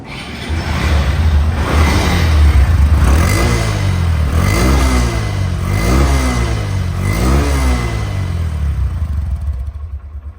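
A 2024 Honda Dream Neo motorcycle engine runs close and loud, rising and falling through several repeated revs over a steady idle, then easing off at the end.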